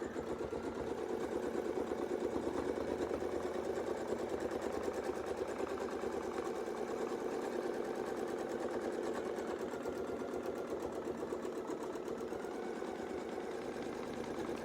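A sewing machine does free-motion quilting along Westalee wreath ruler templates, giving a steady, close, continuous whirring hum with rapid needle pulses that runs unbroken for the whole stretch.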